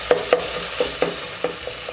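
Minced keema being stirred in a frying pan, a spatula scraping in a steady series of short strokes over a soft sizzle, close and moderately loud, no talking.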